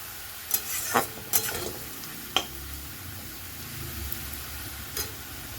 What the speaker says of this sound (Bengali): এইভাবে লাল লাল করে ভেজে নেবেন।